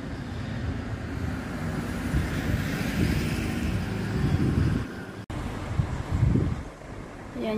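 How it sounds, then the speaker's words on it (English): Street traffic in the small town of Hokitika, New Zealand: a steady wash of passing cars blends with wind buffeting the microphone, with a brief dropout and a louder swell near the end. "Ito na yung tinatawag nilang traffic dito."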